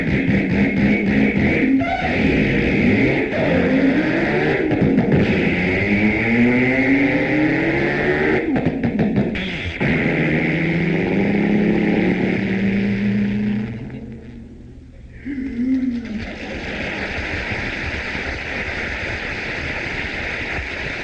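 A voice imitates a hot rod car burning out and pulling away through four gears, loud and close, with rising engine whines, gear-change breaks, a sudden drop near the end and rough rumbling after.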